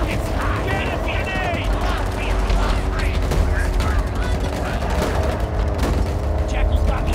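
Heavy sustained gunfire and blasts in the Halo Infinite campaign, a dense continuous barrage with layered rumbling booms and voices talking over the battle throughout.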